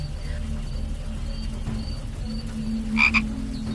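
Distant frogs croaking on a rainy village night, with a short burst of croaks near the end, over a low steady background hum.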